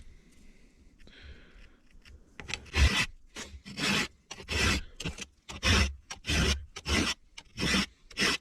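A hand file sharpens a nearly new chainsaw chain in steady rasping strokes, about nine even back-and-forth swipes, close and clear, after a quieter second or two of handling.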